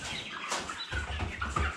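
A 38-day-old rooster sitting during a weighing gives a few short, low clucks in quick succession, close and quiet, with a light rustle and no talk.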